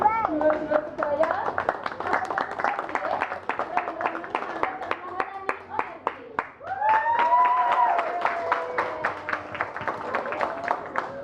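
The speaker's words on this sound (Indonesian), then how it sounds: "Tepuk tangan untuk website Mahanani kita yang telah di-launching pada hari ini" A crowd at a community cultural performance in Kediri, held for a website launch, claps in a steady patter that runs underneath a voice talking over a microphone the whole time.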